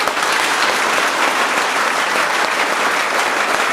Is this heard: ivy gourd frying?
no